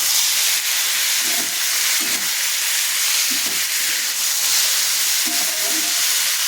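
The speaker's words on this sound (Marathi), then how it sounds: "ते बारीक मासे आपण साफ करून घेतलेले ते टाकायचे आणि परतून घ्यायचे" Small cleaned fish frying with turmeric in a pan give a steady, loud broadband sizzle and hiss, with faint bursts of spatter or stirring now and then.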